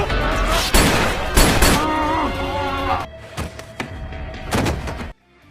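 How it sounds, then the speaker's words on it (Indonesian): A film shootout between mafia gangsters erupts in loud, chaotic bursts of gunfire with heavy booms and thuds, while a voice narrates over the top and the shooting falls away near the end. "memicu sebuah baku tembak di antara mafia Frankie"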